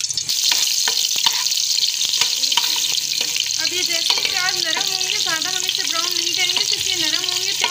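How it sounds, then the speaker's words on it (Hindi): Onions sizzle and fry steadily in hot oil for a parathas dish, a dense continuous crackle with occasional stirring clatter, while a voice speaks and hums over the cooking throughout. "अब ये ऑयल मेरा गर्म हो चुका है, मैं इसमें प्याज डाल रही हूँ"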